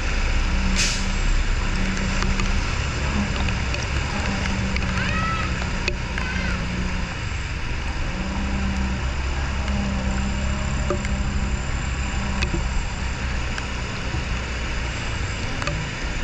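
A dump truck idles and rumbles close by with a low, pulsing engine drone, a sharp hiss of the air brake early on and a few faint squeaks over the steady running.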